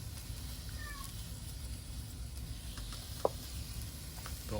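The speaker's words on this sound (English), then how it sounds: "Don't mind my cat meowing in the background." A house cat meows once briefly in the background beside a VARGO Triad multi-fuel stove, under a steady hiss of burning flame and faint sizzling from a hot pan.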